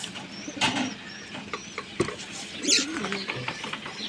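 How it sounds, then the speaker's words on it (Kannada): A pigeon coos softly as racing birds are released outdoors, a few low calls among rustling and handling noises. "ನೋಡ್ರಿ ಬಿಡಾತಿರೋ ಹಕ್ಕಿ ಇದ"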